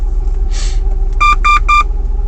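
Three short electronic beeps in quick succession from a Nanocom Evolution diagnostic tool connecting to the air suspension control unit of a Range Rover P38, over a steady low hum and faint background noise.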